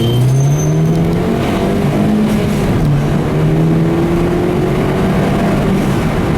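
A Mini accelerates hard on a sunny day with its windows open, engine note climbing steadily through the revs, loud and close inside the cabin with wind and road noise blending in.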